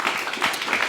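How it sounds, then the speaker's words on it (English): A short burst of audience clapping at an event, a dense, even patter of many hands heard briefly and fairly close. "And also just one more round of applause to you for showing up"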